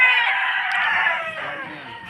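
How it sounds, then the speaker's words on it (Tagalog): A fighting rooster on a gamecock farm lets out one long, loud crow near at hand, trailing off slowly toward the end, with faint clucking beneath. "Marami ko manok"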